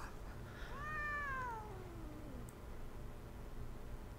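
Cat meowing in a Chainsaw Man anime episode: a single clear, drawn-out meow that bends downward in pitch, heard alone against a quiet background hiss.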